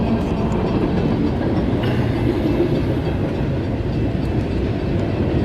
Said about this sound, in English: I'm stuck in a train.